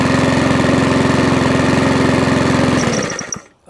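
A Mountfield 414/416 lawnmower with a freshly cleaned carburetor runs at a steady, loud, close-up idle with no surging, then cuts out cleanly and sputters to a stop near the end.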